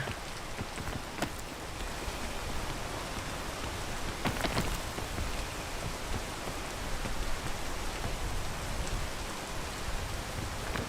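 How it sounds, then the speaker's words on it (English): Steady rain hisses evenly in a video game, with a few brief louder spatters of drops breaking the constant wash, and no voices over it. "And it's immediately raining."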